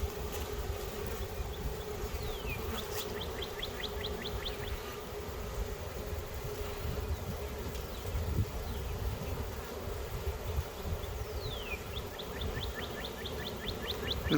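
A dense, continuous hum of many bees buzzing close by, steady and droning, with a few faint bird chirps in the background.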